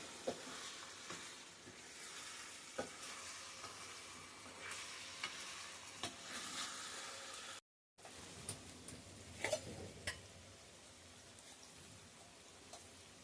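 Oil sizzles and crackles steadily as green chillies fry in a pan, with occasional stirring clicks and a brief pause midway; fairly soft and close, no voices.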